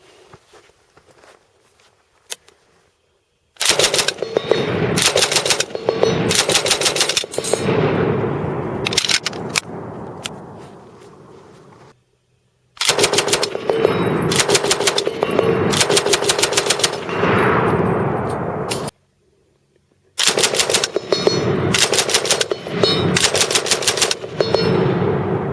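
A Japanese Type 92 heavy machine gun fires three long bursts of heavy, rapid, evenly spaced shots, loud and close, separated by brief pauses, with spent brass clinking out as it ejects.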